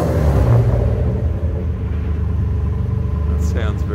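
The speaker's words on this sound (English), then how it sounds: "let's hear it again, rev it up." A 1986 VL HSV Walkinshaw Commodore replica convertible rumbles close by with a deep, steady engine drone under brief talk, loud throughout with slight swells as it is revved.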